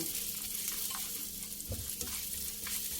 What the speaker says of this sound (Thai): มีเบคอนอยู่ประมาณสักครึ่งถ้วยนะคะ ก็ใส่ลงไปค่ะ เกือบเกือบครึ่งถ้วย ผัดให้หอมๆเกรียม